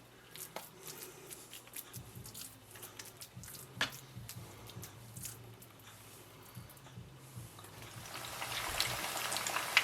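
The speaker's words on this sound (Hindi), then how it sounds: "कबाब मैंने अपने ऑयल में फ्राई करने के लिए डाल दिए हैं।" Chicken cheese kababs deep frying in oil bubble and crackle softly, with quiet scattered pops and spatters that build to a louder, denser sizzle toward the end.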